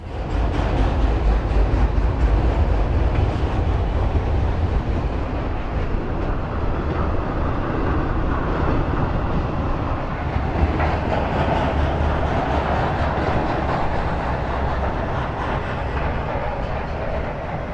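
A long double-length freight train rumbles past nearby on a St. Louis line, a loud continuous roar with rhythmic clacking of wheels on rails that holds steady throughout.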